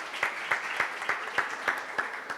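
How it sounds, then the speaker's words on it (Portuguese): Audience applause at a legal panel event on cannabis, a moderate, even patter of many hands clapping in a room, steady and fairly soft, with a few louder claps popping out at regular intervals. "Palmas."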